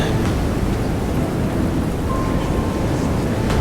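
A thunderstorm at sea in a video game, heard as steady, dense rumbling rain-and-thunder noise that stays loud and constant throughout, with no talk.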